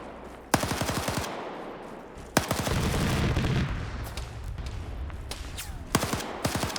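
Heavy gunfire in a military video game, bursts of rapid automatic fire cracking in at intervals over a sustained roar of distant shooting and explosions, loud and close.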